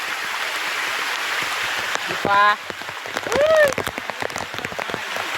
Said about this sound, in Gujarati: પવન ચાલુ છે. વરસાદ એટલો ચાલુ છે.